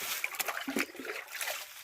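Water splashes and trickles into a sprayer tank in short, uneven gushes, close by and moderately loud.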